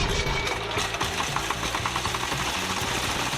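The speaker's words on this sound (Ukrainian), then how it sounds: "Запускаємо двигун за допомогою електростартера." A Kentavr walk-behind tractor engine, fitted with a grid-type potato digger, runs after an electric start, giving a close, rapid, steady mechanical chugging and knocking throughout, with no voices.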